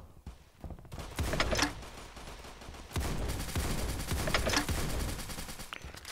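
Rapid video game gunfire in a let's-play, loud and dense bursts of shots clustered in two main volleys with sharp thumps between, continuous and close throughout.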